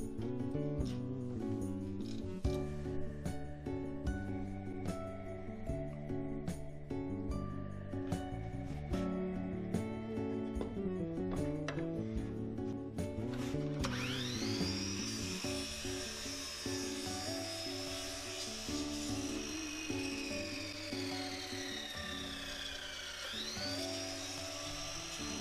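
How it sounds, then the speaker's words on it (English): A miter saw cuts a miter in wood, its motor whine rising into a loud, sustained cut that winds down and briefly spins up again near the end, heard close with no talking. "I cut the miter on the miter saw"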